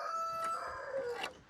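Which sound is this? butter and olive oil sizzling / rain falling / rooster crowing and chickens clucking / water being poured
rooster crowing and chickens clucking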